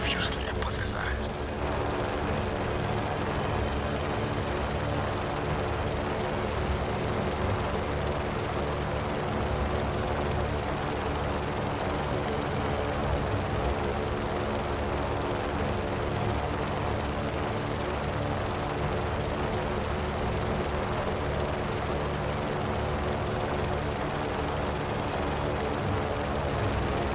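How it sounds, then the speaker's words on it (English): An airplane flies in the video game Just Cause 3 with a steady, loud, dense engine and propeller drone that continues without a break for nearly half a minute. "Plane"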